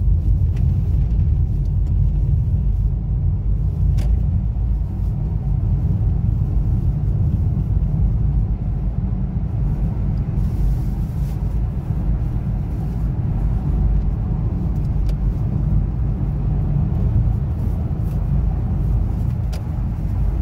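Steady, loud road rumble from car and bus traffic in a one-lane contraflow during the 2023 Lebaran homecoming rush, with a dense low engine drone and tyre noise that continues without break and no voices.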